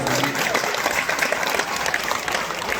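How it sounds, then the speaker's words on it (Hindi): Steady, dense applause from a crowd, continuous clapping at full volume throughout with no pauses. "जोरदार तालियों से स्वागत"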